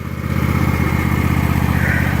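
A Kawasaki V-twin engine idles on a 2016 John Deere X570 riding mower, a steady, loud low throb with an even pulsing rhythm running close by without a break.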